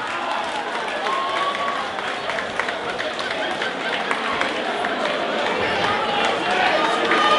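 Crowd at a WCU boxing event applauding, a dense, sustained wash of clapping and cheering mixed with hall chatter, fairly loud and even throughout.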